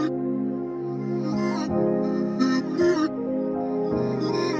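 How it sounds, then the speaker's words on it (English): A reversed vocal chop sample from Splice, cut up to follow the melody of an ambient trap beat, plays as a continuous swelling, harmonic texture with a few bright breathy bursts on top and no talking. "I just reversed it basically and then chopped it up to make it fit the melody."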